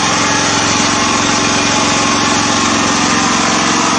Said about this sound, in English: The new engine is running very loudly